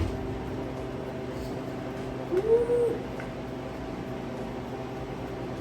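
A Harvest Right freeze dryer runs with a steady low mechanical hum and fan-like whir, while a person briefly calls out once midway.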